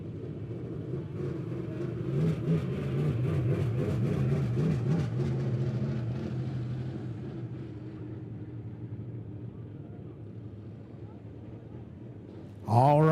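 Midwest Modified race cars rolling onto the track at Monett Motor Speedway make a steady, distant low engine rumble that swells slightly and then holds, ending with a sudden loud burst of sound.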